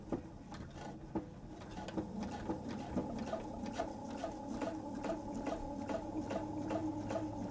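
A sewing machine hums steadily with a quick, regular mechanical patter as it stitches along the edge of a fabric travel tote bag, close and fairly quiet, with no voices.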